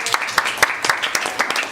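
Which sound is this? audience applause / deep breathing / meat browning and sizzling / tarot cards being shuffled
audience applause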